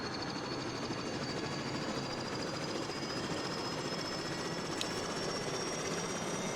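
An SA315B Lama helicopter in a flight simulator spins up on a helipad, its turbine whine and rotor chop holding a steady, continuous roar with a rising high tone and no talking.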